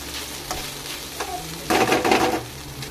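Rice and a spice mixture are sautéed in a pan, a soft frying sizzle broken by stirring scrapes, with one louder burst of stirring near the end.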